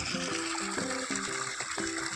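A motor water pump runs steadily as water pours and splashes continuously into a tank, with a low, rhythmically pulsing hum beneath the rushing flow.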